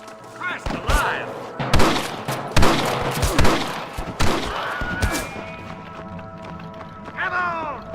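Gunfire and shouting fill a Red Dead Redemption firefight against snipers, with several sharp loud shots scattered among voices calling out, plus running movement and a whizzing sound near the end.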